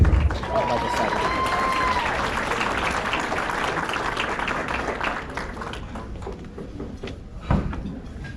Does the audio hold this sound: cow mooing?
no